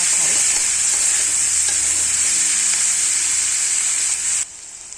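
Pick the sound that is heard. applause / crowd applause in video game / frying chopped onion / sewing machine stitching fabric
frying chopped onion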